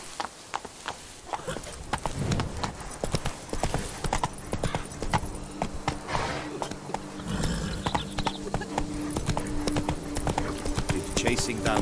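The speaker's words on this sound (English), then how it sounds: "Whoa there, Roach." Horse hooves clip-clop in a steady, rapid rhythm throughout a scene in The Witcher 3, close and continuous, with people talking over the hoofbeats.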